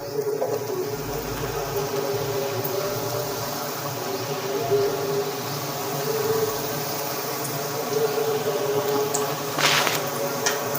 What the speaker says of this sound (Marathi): गरम झालेलं आहे आता याच्यात पपडे मी अशी सोडून घेणार आहे तेल